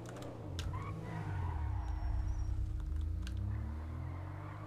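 A JB700 sports car driven in the game GTA V, its engine droning steadily with shifting pitch and a few light tire skids and clicks mixed in, fairly close.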